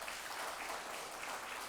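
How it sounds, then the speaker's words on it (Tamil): Audience applause at a Tamil poetry recital honoring the poet Bharathiyar's birthday: a steady, dense wash of clapping hands sustained throughout without pause. "அரங்கமே கைதட்டுங்கள்"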